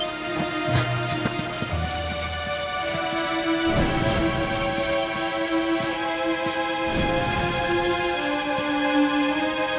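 Steady rain with rumbles of thunder in the video game Dragon Quest XI, a constant wash of downpour under sustained musical tones, with two deeper thunder swells rising and fading, and no speech.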